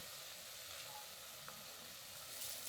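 Steady, soft sizzling of ground chicken stir-frying in a pan until its moisture cooks off, a continuous crackling hiss with no voices.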